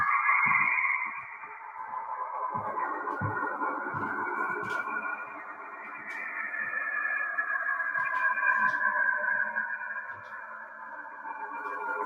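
Eerie, wavering electronic tones from a space radio recording of Saturn, sliding and swelling with a droning, echoey quality and occasional low thumps.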